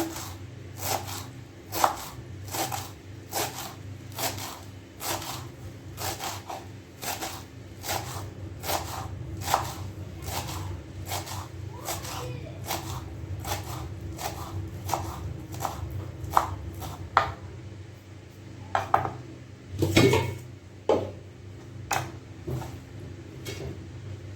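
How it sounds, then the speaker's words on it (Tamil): Coriander leaves chopped finely with a knife on a board for fresh juice, a steady rapid series of close, sharp knife taps that keeps going for most of the stretch and thins out near the end. "நம்மளால் எவ்வளோ கட் பண்ண முடியுமோ அவ்வளோ சின்னதாக கட் பண்ணிக்கோங்க ஜூஸ்க்கு"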